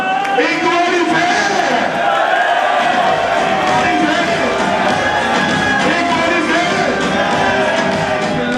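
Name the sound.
crowd applauding at a political rally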